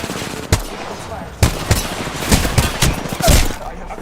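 Video game gunfire rattles in quick bursts and single sharp shots, several loud cracks spaced irregularly over a few seconds against a busy game background.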